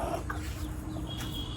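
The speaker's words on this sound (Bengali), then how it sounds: "এই হাঁস আমাকে পুরো হাঁপাই দিছে" A duck calls on a hot day near a home, giving a few short, clucking quacks close by over steady background noise, with no talk.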